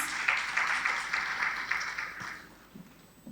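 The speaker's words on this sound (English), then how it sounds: "Round of applause for all teams." Audience applause for competing teams at a regional quiz event, a moderate round of clapping that fades toward the end, heard at some distance with a little murmur underneath.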